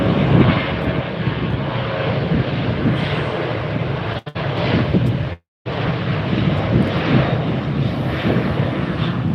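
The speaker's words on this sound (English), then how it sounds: "American Flight 3277, 737. With the One World special livery on it." An American Airlines Boeing 737 in special livery rumbles loudly and close at Tampa Airport, a dense sustained engine roar broken by two brief dropouts partway through, with no talking.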